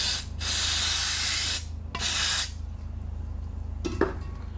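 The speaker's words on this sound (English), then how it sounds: "Now I'll just pop a bit of brake cleaner up there." Brake cleaner sprayed from an aerosol can into a Zenith K5 carburettor from an International Harvester W30 tractor: two close, loud bursts of hissing spray, the first longer, followed by a faint metallic clink.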